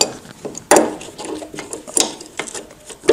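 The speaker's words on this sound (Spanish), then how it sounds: "seguramente quitándolo... aflojando estos tornillos salga fácilmente" Screws are loosened on a Vespa P200E scooter engine, giving sporadic metallic clicks and ratcheting ticks with short scraping bursts at irregular intervals, close by.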